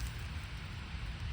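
Steady rain falling outdoors, a dense even hiss of drops with a low rumble underneath, continuous and fairly close, no voices.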